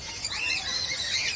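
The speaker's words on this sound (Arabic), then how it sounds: "هنا فيه الطيور، أنواع ديال الطيور ما عرفت" Birds call in an aviary at the Agadir zoo, a steady stream of high chirps and squawks at moderate loudness with no talking.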